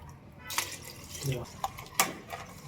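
Water is poured into a home-kitchen pot of rice with vegetables, twice the rice's volume plus an extra cup, giving a few short splashy bursts over a faint room background.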